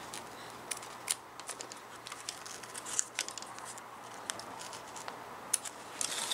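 Soft, irregular snips and crinkles of 3-inch scissors cutting through crisp embroidery stabilizer, close by and quiet, scattered clicks over a low background hum.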